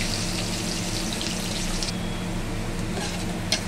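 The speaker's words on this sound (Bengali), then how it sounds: "এবার আলুটা লাল করে ভেজে নেব।" Potato pieces frying in hot oil with cumin seeds and two bay leaves, a steady broadband sizzle that holds close and even throughout, with no talk.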